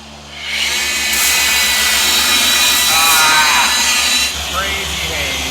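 A rotary polisher buffs car paint with a loud, steady motor whir that stays close and continuous, swelling slightly in pitch midway and easing near the end.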